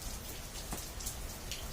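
Rain comes down outside on rocks in a brief, even patter, with a couple of distinct nearby drop taps over the soft wash.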